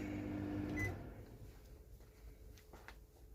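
An LG SolarDom microwave oven starts up: a steady low hum with a brief high beep near the start, then a quieter running drone, faint and alone.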